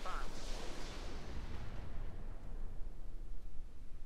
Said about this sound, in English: we're just going to fire